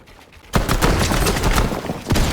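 Rapid gunshots from a ranked solo cup video game match break out suddenly after a quiet moment, firing in a steady fast string of close, loud shots.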